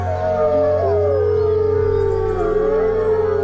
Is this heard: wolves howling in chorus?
yes